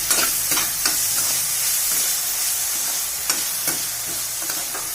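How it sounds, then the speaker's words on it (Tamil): Tomatoes sautéing in a pan for a ground-masala chickpea (sundal) kuzhambu, stirred now and then: a constant bright sizzle with a few soft spoon scrapes, close and even, no voices. "நல்லா இதை மிக்ஸ் பண்ணிக்கோங்க. தக்காளி நல்லா வதங்கட்டும்."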